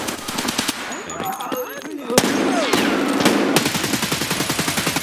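Rapid automatic gunfire bursts from a first-person shooter game, loud and close, with dense repeated shots that intensify midway and keep hammering alongside game effects.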